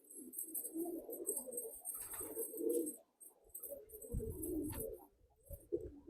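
Madrasi pigeons cooing in a loft, soft repeated low coos close by over a faint high insect-like hiss, with occasional light rustling.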